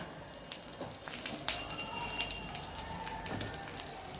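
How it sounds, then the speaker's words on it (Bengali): Cumin seeds and dried red chilies spluttering in hot oil, a soft crackling hiss with scattered faint pops and a clink, fairly quiet and close. "এবার ফোড়নে দেব জিরে, শুকনো লঙ্কা"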